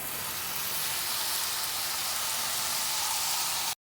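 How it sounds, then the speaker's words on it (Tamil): A paste of onion and tomato sautés in a pan for sardine curry, giving a soft, steady sizzling hiss close by. It runs evenly and then stops abruptly at the end. "தக்காளியெல்லாம் நல்லா வதங்கிட்டுருக்கு"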